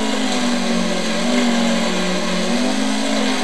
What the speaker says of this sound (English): driving a monster truck in his game on his Xbox 360